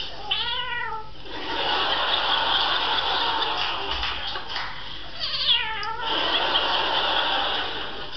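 A voice imitates a cat with two drawn-out, wavering meows, separated by a few seconds of rough hissing noise.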